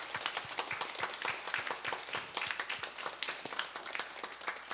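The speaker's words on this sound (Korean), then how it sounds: "우리 모두 큰 박수로 한번 격려하는 시간을 갖도록 하겠습니다" A church congregation at a Sunday service applauds its teachers, with dense, steady clapping from many hands filling the room throughout.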